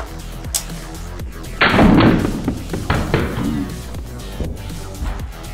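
Beyblade tops, including Vice Leopard, clash in a stadium during a savage battle. Sharp impacts and rattles are heard up close, with one loud burst-like crash in the middle.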